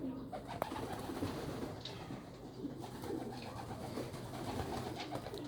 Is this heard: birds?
yes